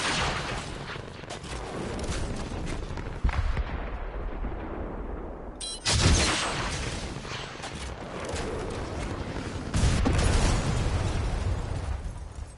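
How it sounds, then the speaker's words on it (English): Explosives detonating in Fortnite during a season finale event: a continuous barrage of loud booming blasts and crackling bursts, with sharper detonations near three, six and ten seconds, no talk. "wow, I just detonated both at the same time."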